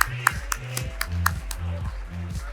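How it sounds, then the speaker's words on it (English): Audience applause at a fireside chat session on a conference stage comes as sharp, evenly spaced claps over a low, steady tonal backdrop, fairly close and clear. "Can we have the honor of having a big applause for both of them?"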